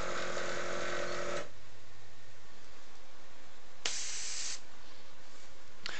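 Aerosol black spray primer hisses onto miniatures in two close bursts, a long spray then a shorter one after a quiet gap, with a faint trailing puff at the end.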